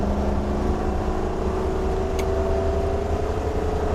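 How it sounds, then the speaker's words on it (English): A 2021 Newmar Bay Star Sport 2905 motorhome's Ford engine hums steadily under continuous road noise, its pitch rising slowly as it accelerates past 30 to 40 mph, with no voices. "We'll put my foot in it a little bit just to see how much noise we can make the Ford make."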